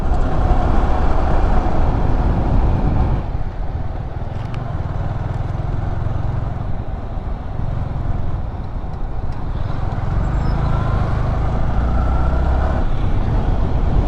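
Steady road traffic on a mountain highway near Manali, a continuous loud rumble of passing cars, trucks and buses lasting the whole stretch, with engine drone rising and falling close by and no talk over it.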